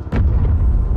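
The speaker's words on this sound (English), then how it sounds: "Explosions." A loud, deep boom rumbling up after a brief pop, heavy low-end roar sustained throughout, like a big explosion close by, in the Modern Warfare 3 campaign mission Oligarch.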